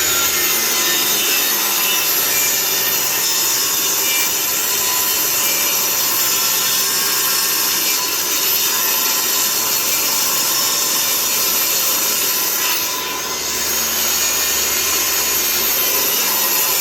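A saw blade cuts through an oak threshold with a loud, continuous grinding whine that holds steady for the full length and dips briefly near the end.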